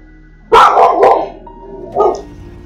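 A dog barks nearby indoors, a loud burst of two or three quick barks followed by a single shorter bark after a pause.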